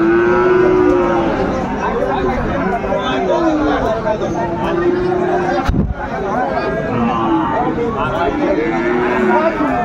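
Friesian and crossbred bull calves moo repeatedly at a busy cattle market in Dinajpur, their drawn-out calls rising over constant crowd chatter and nearby talking, with a sharp knock midway.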